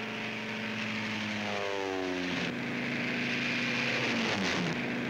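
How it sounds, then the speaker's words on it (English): WWII transport aircraft taking off for the Normandy airborne invasion, with a loud, steady propeller engine drone that shifts in pitch as a plane passes close by, without speech. "These are the first ships to take off in the airborne invasion of Fortress Europe."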